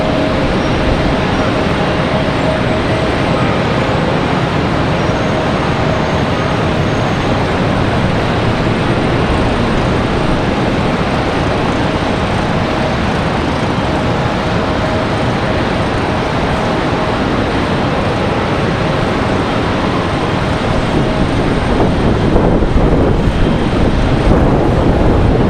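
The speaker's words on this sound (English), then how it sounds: "Got another arrival, American Airlines 1862 coming in from Las Vegas." An American Airlines A321 arriving at Charlotte Douglas after a flight from Las Vegas roars steadily and loudly, its broad engine rumble swelling slightly toward the end.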